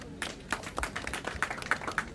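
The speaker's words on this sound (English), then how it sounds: "They should clap for you." A small outdoor crowd at a road construction launch in Dokolo claps. The claps are scattered and uneven, fairly faint and somewhat distant.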